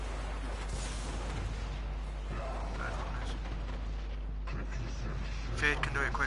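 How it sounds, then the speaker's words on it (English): Booming explosions and rumbling weapon fire from a raid in the video game Destiny, heavy and steady under the mix, with a brighter blast near the end and game voices speaking over it. "Second bomb's being thrown."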